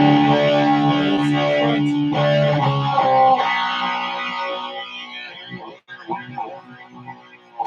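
Electric guitar played through a Rat distortion pedal stacked with a 68 Deluxe amp's overdrive, sustained fuzzy chords ringing loud and close, then decaying into scattered picked notes with some noise.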